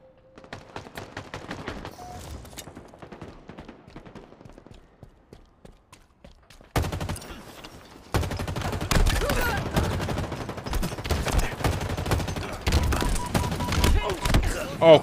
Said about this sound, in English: that stupid rocket launcher